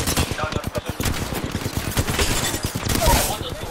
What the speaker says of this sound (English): I'm getting shot, I'm getting shot.